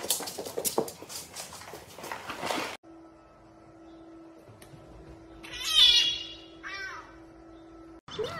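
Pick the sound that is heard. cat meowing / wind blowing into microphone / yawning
cat meowing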